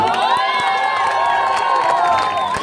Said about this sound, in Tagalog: Sabay-sabay po natin palakpakan, hiyawan, binibini, Kylie Padilla.